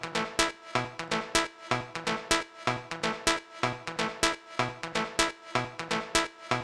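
Looped lead sample playing a repeating riff, punchy plucked notes in a steady even rhythm that cycles several times, loud and close with no talk over it.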